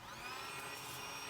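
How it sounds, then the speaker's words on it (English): A Looft electric charcoal lighter, a high-powered hot-air blower with a heating element at its base, gives a steady whooshing blast of air, near and continuous, with no talk. "we are using the Luft lighter today, my friends. So an electric little appliance. Basically really high powered hair dryer."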